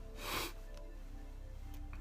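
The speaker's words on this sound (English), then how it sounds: "I have cold sniffles out here." A single quick, breathy sniff rises and fades, followed by quiet background hiss.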